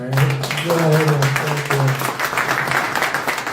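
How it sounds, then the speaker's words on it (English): An audience at a live investment meet and greet in Toronto bursts into applause that builds and sustains, with a voice speaking over it early on. "So if you feel like clapping, go ahead and clap well"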